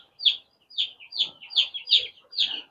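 Sonali chickens on a poultry farm, six or so separate high clucking calls in an even rhythm, close and clear against otherwise quiet surroundings.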